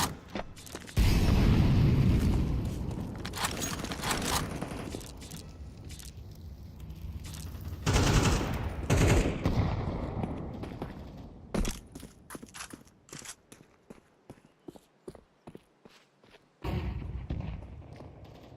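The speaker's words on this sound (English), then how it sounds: "Grenade out. Flashbang." Grenade and flashbang blasts in a first-person shooter game: a few heavy, booming explosions separated by stretches of scattered gunshots and clatter, loud and close, with quieter lulls between.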